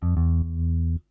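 A 70s P bass in the Modo Bass 2 plugin, played fingerstyle with no muting, sounds about three sustained low notes that ring fully, then stop abruptly.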